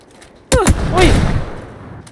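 A burst of gunfire erupts in the PUBG battle royale shooter, sharp loud shots followed by a trailing echo and a whooshing tail, standing alone with no talk.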